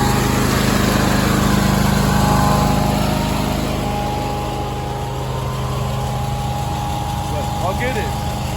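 A riding lawn mower's engine runs steadily and close by as the machine is unloaded down ramps on a slope, a constant droning hum that eases slightly partway through.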